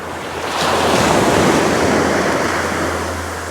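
Ocean waves breaking and washing up on a beach during shore fishing for rays, a broad rushing surge that swells and fades, with wind buffeting the microphone.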